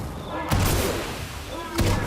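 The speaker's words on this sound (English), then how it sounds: "Fires its cannon." An enemy cannon in the video game Clair Obscur: Expedition 33 fires twice, each shot a heavy boom about a second apart, rising over a loud, continuous bed of game music and effects.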